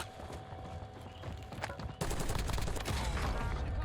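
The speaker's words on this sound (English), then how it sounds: "Dude, I don't know where I'm getting sniped at from." Gunfire from sniper shots in a Call of Duty Warzone match: sharp cracks ring out over steady background noise, with a louder, denser burst of shots about halfway through.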